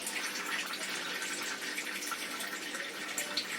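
Water runs steadily as it is drained off soaked rice, a continuous hissy pouring close by with no talk.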